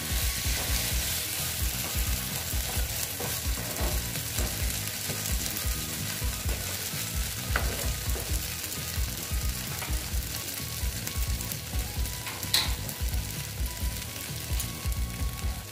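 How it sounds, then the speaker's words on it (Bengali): Pointed gourd (potol) fries in a pan with a steady, loud, close sizzle, while a spatula stirs and scrapes rhythmically through the pieces and no one speaks. "ভালো মতন পটলটার সঙ্গে আমি কষিয়ে নিচ্ছি।"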